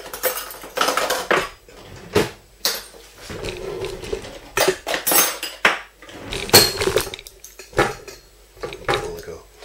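Pumpkin pie being cut and a first slice lifted out of the pan, heard as close clinks and scrapes of a metal utensil against the dish in uneven bursts, with a few quiet sounds in between.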